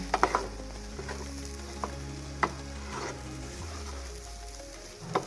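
Sev khamani, a Gujarati street-style snack, is mixed with half a lemon and fresh coriander, giving soft scraping stirs and a few sharp utensil clicks against the bowl over a low steady hum, without talk.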